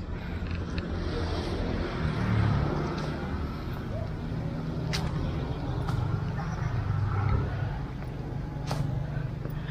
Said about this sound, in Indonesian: harap maklum aja kalau misalkan masih kedengaran suara kendaraan